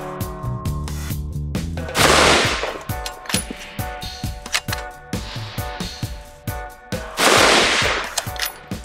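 A Bergara Premier Series Long Range Precision rifle fires two loud, sharp shots several seconds apart. Each has a booming report and an echoing tail, with quieter clicks and knocks of handling in between.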